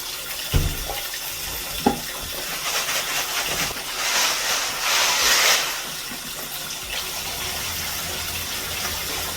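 Brass cartridge cases being rinsed under running tap water in a sink for reloading, a steady gushing flow with a louder surge midway and a couple of sharp knocks of metal near the start.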